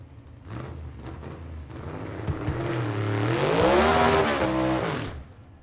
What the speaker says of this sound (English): John McLaughlin back up here next in his B-gas car, the 1948 Willys called the Disorderly Conduct.